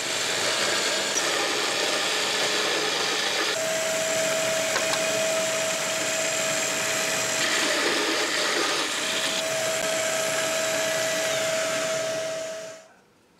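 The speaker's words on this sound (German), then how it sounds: "da schneiden wir jetzt erstmal ein Loch rein" A power tool cutting a hole into an 80 x 90 mm wooden block gives a steady, loud, close whine for about twelve seconds, its tone shifting slightly as it bites, then winds down to silence.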